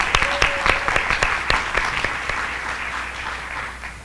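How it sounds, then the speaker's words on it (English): A school audience applauds a principal for raising her school's performance grade, a burst of clapping that starts with distinct sharp claps and then thins and fades over a few seconds, with a brief voice at the start. "Let's give her a round of applause for that."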